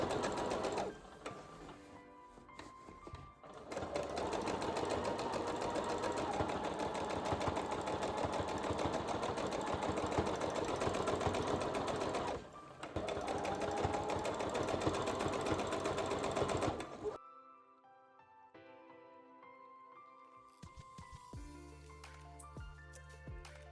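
A sewing machine understitches bias tape along a blouse seam, running in long steady bursts of rapid stitching with a brief pause midway, then stopping and leaving quieter handling sounds.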